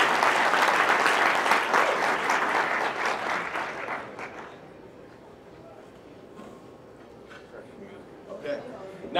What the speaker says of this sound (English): I'd like everybody to give all of them another round of applause,